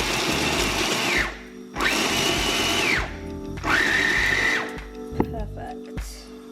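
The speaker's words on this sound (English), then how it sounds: "it in the blender and see how that turns out" A blender whirs through chunks of cauliflower in three loud bursts of roughly a second each, with the pitch climbing as the load spins free, then short pauses and a few clunks at the end.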